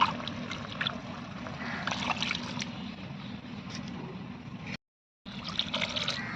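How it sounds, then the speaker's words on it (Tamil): Water trickles and pours quietly into a cooking pot of simmering chicken curry, with a brief gap of silence before the pouring resumes. "கொஞ்சம் தண்ணி அலாசி ஊற்றிக்கலாம்."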